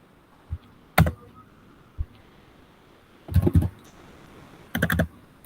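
Keys clack on a computer keyboard: a few light taps, then two short bursts of firm presses, close and crisp against a quiet room, with no one talking.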